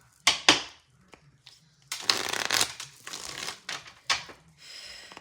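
Moonology oracle cards are shuffled by hand in short papery bursts of riffling and slapping, separated by brief pauses, close and moderately quiet.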